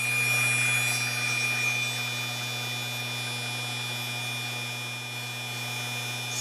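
A small electric motor spins at 24 volts, about 7,200 RPM, giving a steady, even whine with a constant low hum under it, heard alone and fairly quiet with no change in pitch.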